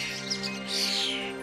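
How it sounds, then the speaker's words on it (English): Garden birds chirp in a home garden, with several bright tweets and a longer warbling call over a steady low hum, close and moderately loud, no talking. "Let's feed our garden birds."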